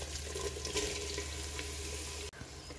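Onions drop into hot ghee in a clay pot and fry with a loud, continuous hiss and crackle that stays steady, then is briefly cut off near the end.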